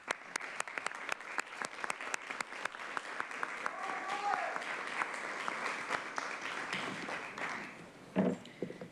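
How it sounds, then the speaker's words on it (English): Applause rises at a county board of supervisors meeting, many people clapping steadily in a large room with scattered sharp claps at the start. It fades near the end as a voice and a brief knock cut in. "I do want us to give you a big round of applause for everything that you've done."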